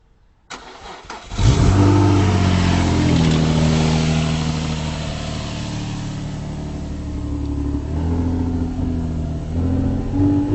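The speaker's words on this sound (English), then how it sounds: "the car started" A car engine cranks and catches after a jump start, then settles into a loud, steady run, with revs rising again near the end, close by and with no talk.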